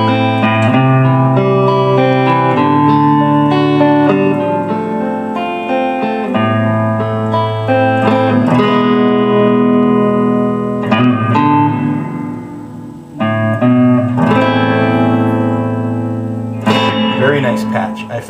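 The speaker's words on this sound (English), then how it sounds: "Here's a surfy reverb." Gretsch electric guitar through a Fender Mustang III amp with a surf reverb patch, a loud close melodic line of sustained notes and chords washing into long reverb tails, playing alone throughout.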